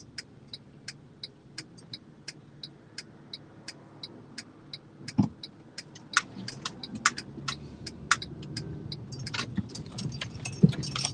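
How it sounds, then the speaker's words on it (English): Cars pass along a town street lined with shops, a low traffic rumble swelling through the second half while keys jangle in a steady walking rhythm close by. "We'll let the cars pass."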